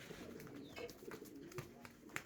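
Fancy female house pigeons softly cooing close by, low murmuring coos mixed with faint rustles and small clicks, no voices.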